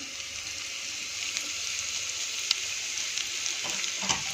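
Capsicum and tomato sizzle steadily in a hot pan while making restaurant-style Manchow soup, a constant hissing fry close by with a few faint clicks and taps scattered through it.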